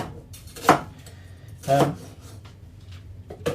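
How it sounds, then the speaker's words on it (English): A knife strikes a cutting board in a few sharp, spaced chops while preparing Singapore chicken curry. Quiet kitchen clatter sits in between. "I'll chop it up into bits."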